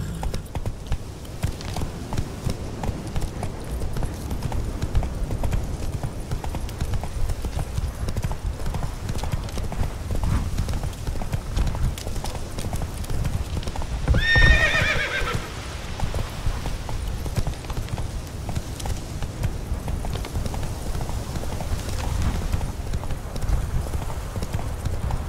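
Horse galloping in the video game The Witcher 3: Wild Hunt, rapid continuous hoofbeats close by with a brief whinny midway, over a low rumbling background.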